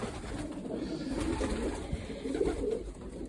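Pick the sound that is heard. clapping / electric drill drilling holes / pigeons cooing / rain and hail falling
pigeons cooing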